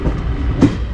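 Train wheels clattering over rail junction points at a station in Madhya Pradesh, a loud rumbling ride heard from inside a sleeper-class carriage with a sharper clack near the end.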